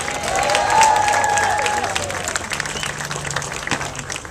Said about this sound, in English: Let's give our policy board members a round of applause